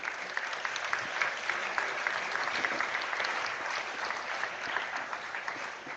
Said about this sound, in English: Let's give a round of applause to all the participants.